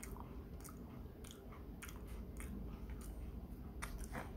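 No Brand apple jelly being chewed up close, giving soft squishy bites with a few crisp clicks repeating in an irregular rhythm over a steady low background.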